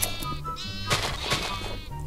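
A lamb in the Minecraft video game bleats in short wavering cries, loud and close, with speech-like game audio overlapping.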